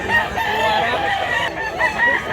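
A bantam rooster crows at a Mantalungon market in Barili, Cebu, a near, loud crow standing alone.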